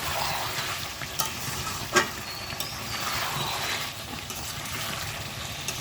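Meat, with fried potatoes just added, sizzles and fries steadily in a pan, a continuous crackling hiss close by with occasional stirring clinks and no talking.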